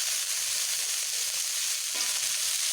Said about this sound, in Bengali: আলুগুলোকে একটু হালকা ভেজে নিচ্ছি।